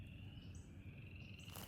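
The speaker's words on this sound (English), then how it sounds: "I could hear the frogs" Frogs croak in a steady, dense chorus alongside a thin sustained insect-like trill, continuous and moderately distant for the whole stretch, with no voices.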